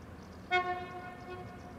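A Slovenian intercity train at Celje station, July 2016, gives a single clear horn blast of about a second over quiet station ambience.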